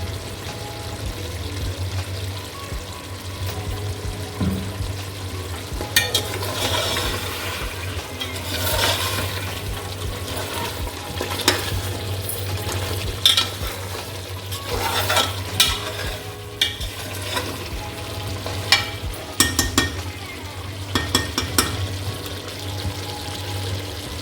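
Mutton paya (goat trotters) being fried and stirred in a little oil in a pan, a steady close sizzle with repeated scraping stirs and clatters throughout, no talking.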